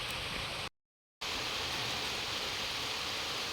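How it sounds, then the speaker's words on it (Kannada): Constant heavy rain hiss fills the clip, broken by a brief total silence near the start, then resuming unchanged. "ಮಳೆ ಸೌಂಡ್ ಕೇಳಿಸ್ತಿರ್ಬೋದು"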